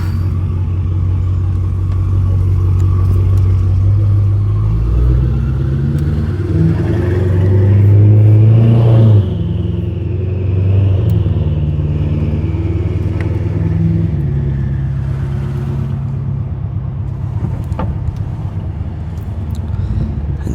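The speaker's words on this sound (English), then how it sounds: "So now we're gonna go for a little test drive and see how this car reacts now" A BMW F10 car engine runs steadily on a test drive, a loud continuous low rumble with a rising rev near the middle that eases back down, close and without talk.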